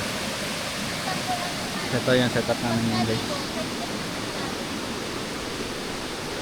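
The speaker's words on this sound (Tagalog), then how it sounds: "ito yung ilog" Steady rushing of a river swollen by heavy rain at a campsite fills the background, loud and continuous, while a person briefly speaks over it.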